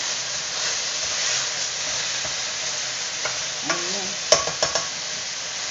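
Black pepper gets stirred into chicken frying in a pan, a constant loud sizzle with spatula scrapes and a few sharp metallic taps near the end, no talking.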